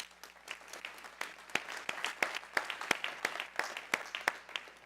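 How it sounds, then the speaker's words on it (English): An audience at a university welcome and opening session claps for the event's sponsors, a steady patter of many hands at moderate distance that holds evenly for several seconds without speech. "hear a round of applause for all our sponsors and Happily"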